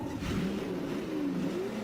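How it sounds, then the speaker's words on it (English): A V12 race car engine in the Automobilista VR racing game, a Ford vs Ferrari era car at Sebring, idling and rising in pitch, smooth and close with no other sounds. "Let's start the engine and let's hear what the sounds does on this V12."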